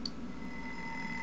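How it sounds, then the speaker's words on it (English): A cell phone alarm goes off inside the horror video game Calling, giving a steady, unbroken electronic tone that holds at an even level from start to finish. "And the alarm goes off."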